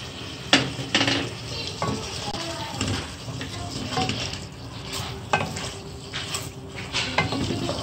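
Black pepper frying in hot oil in a karahi for a desi Punjabi chicken karahi, with a steady sizzle under repeated metal stirring clanks and scrapes, close and moderately loud.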